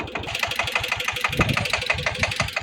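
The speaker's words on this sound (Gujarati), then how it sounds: "મસ્ત મજાનું વગર ડ્રાઈવરિંગ ટ્રેક્ટર ચાલુ છે" A tractor engine runs with no driver aboard, chugging loud and close in a fast, even diesel knock that holds steady throughout.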